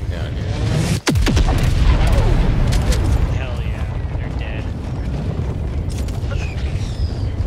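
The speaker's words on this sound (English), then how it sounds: "what did that missile blow up like there?" A missile explosion in Helldivers 2: a loud, deep boom with a sharp crack near the start, followed by a long rumbling roar and scattered blasts, with voices talking over it.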